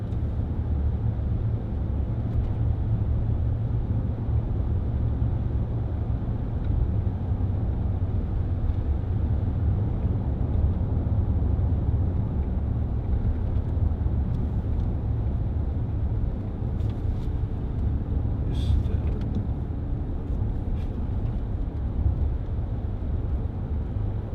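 A 2010 Range Rover Sport 3.6 TDV8 HSE cruises over a bumpy road, heard from inside as a steady low rumble of engine and road noise with faint knocks, no talking.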